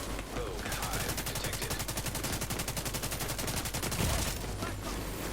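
Sustained automatic assault rifle fire in a video game, a rapid, even stream of shots running nearly nonstop at close range, loud and dense with no talking over it.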